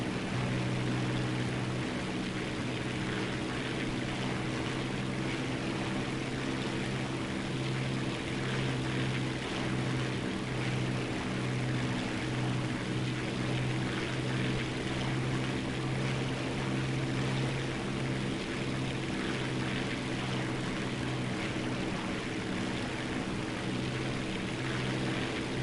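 Steady propeller aircraft engine drone in War Thunder, a continuous loud hum with a low throbbing tone holding evenly throughout with no pauses.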